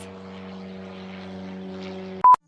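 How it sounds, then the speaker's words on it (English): A propeller airplane passes overhead as a steady, droning engine hum with a strong low tone, holding level for about two seconds before cutting off abruptly, followed by a brief sharp beep. "there is another airplane"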